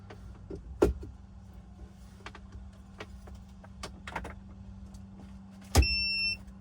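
A short electronic beep rings out clearly as a TV powers on in a 2025 Kenworth W900 truck, after a few quiet clicks and knocks, set against a low steady hum.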